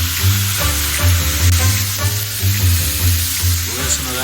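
Ground beef sizzles and crackles in a hot pan, with rhythmic scraping strokes of stirring and a low background hum.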